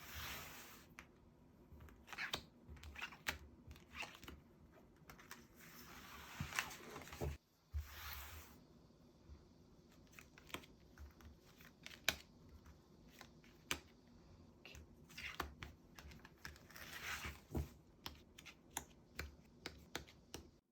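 Tarot cards being shuffled and drawn close up make soft riffles, taps and snaps in irregular bursts, faint and quiet with no talking.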